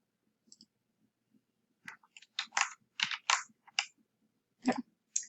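Computer mouse clicking while drawing in CAD software, a run of sharp close clicks, sparse at first then in quicker bursts, with no talking.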